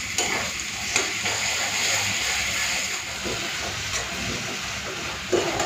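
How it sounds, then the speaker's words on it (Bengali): Ginger, garlic and onion fry in a pan for a chicken and potato curry, giving a steady, close sizzling hiss that runs unbroken throughout, with a few faint scrapes and clinks on top and no talking. "দু 3 মিনিট একটুখানি ভেজে নিই।"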